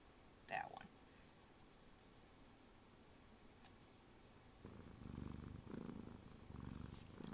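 A recorded track of a cat purring plays quietly, a soft low rumble that grows steadier in the second half, with a few faint clicks and ticks over it.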